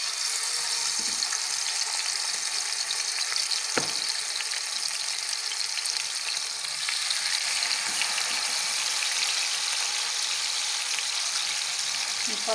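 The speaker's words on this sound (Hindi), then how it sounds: "अब इसको शैलो फ्राई करेंगे" Fish shallow frying in cooking oil on a flat griddle, a loud, steady sizzle and crackle that runs unbroken throughout, with a few faint scrapes.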